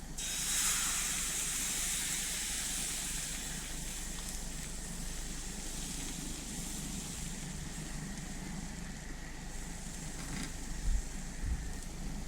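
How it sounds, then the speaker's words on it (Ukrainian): Steady sizzling hiss of pancake batter frying in a hot oiled pan, continuous and fairly loud throughout, with a few faint clicks near the end. "І починаю обсмажувати."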